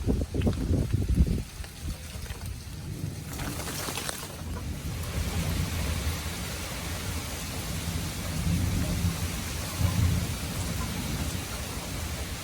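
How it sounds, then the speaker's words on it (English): Rain pours steadily while thunder rolls and rumbles, with a sharp crack early on and deep booms that build and fade. "Oh darn, it's raining."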